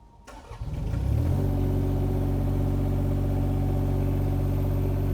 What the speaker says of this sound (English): First, we start the engine.